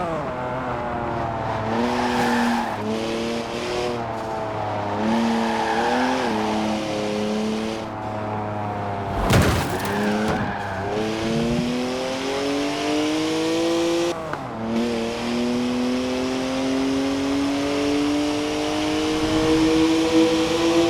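A BMW in Forza Horizon 4 drives hard with a continuous engine drone that rises and falls through gear changes, a sharp skid burst midway, then climbs steadily in pitch toward the end.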